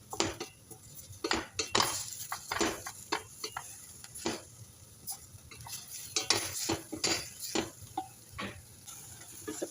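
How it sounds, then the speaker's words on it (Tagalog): Beef shank sautés in a pan for an Arab-style dish while a utensil stirs it, making irregular close scrapes and metallic clatters over a low sizzle. "i-add pa natin yung ating karsya. Haluin natin para mag-isa."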